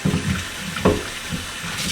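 Hot tap water runs from a faucet down a muzzleloader barrel held in a kitchen sink's garbage disposal, a steady hiss with a brief splashy surge midway.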